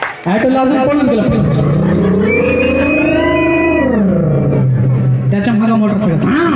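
A voice imitates an auto rickshaw running during a stand-up comedy stage show in Latur, with a loud, close, droning engine tone that rises, holds and falls before sputtering off.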